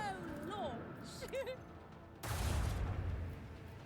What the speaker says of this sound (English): Commence torpedo launch.